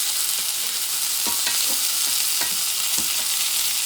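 Scallops sizzle in butter in a hot pan as a dense, even frying hiss. A few soft clicks and scrapes come through close by, with no voices.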